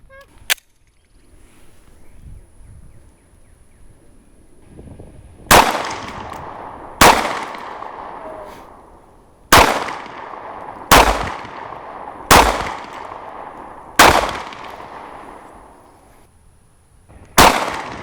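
Gunshots from two compact pistols, a Sig Sauer P365 and a Springfield Hellcat, at a shooting test: eight sharp, loud reports at irregular intervals of one to three seconds, each with a short decaying echo, one faint shot near the start.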